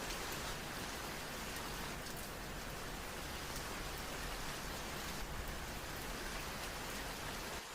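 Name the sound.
rain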